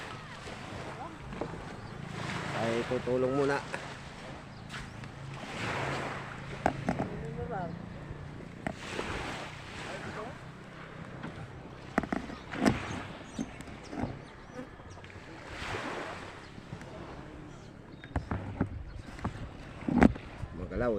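A bangka boat on the water, waves slapping against the hull in rolling surges with wind buffeting the microphone and occasional knocks, while people talk nearby.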